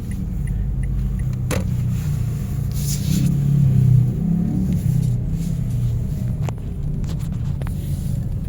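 Cars idling and creeping in a street traffic jam on AS Fortuna Street in Mandaue City, Cebu, a steady low engine rumble heard from inside a vehicle with a few faint clicks and a brief swell of revving.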